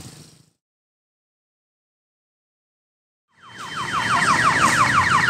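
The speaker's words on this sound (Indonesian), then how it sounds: "Tiba-tiba ada alarm berbunyi" A loud alarm starts after a moment of near silence at a rail line used by sugar cane trains near a sugar factory, giving rapidly repeated rising, wailing tones that hold steady and insistent close by.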